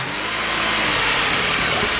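A car engine runs steadily and loudly up close during a fuel injector check, a continuous mid-pitched drone with an uneven, misfiring pattern and no talk.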